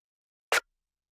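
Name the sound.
extra wacky snare layer sample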